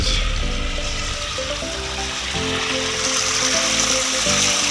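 Strong rainwater rushes through a village drain after heavy rain, a dense, steady roar of flowing water heard close and loud throughout, without any voices.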